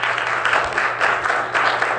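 Loud, dense applause from an audience at a Palo Alto city council meeting, many hands clapping steadily and close by with no voices over it.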